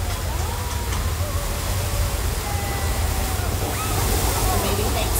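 Loud rushing water pours continuously at a Universal Studios Hollywood attraction, a heavy gushing roar with sloshing, and faint voices murmur beneath it.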